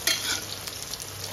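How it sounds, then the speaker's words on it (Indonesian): Tofu fries in a pan with a constant bright sizzle, close and steady, with faint stirring scrapes and no voices. "Iki tahune pemirsa digoreng"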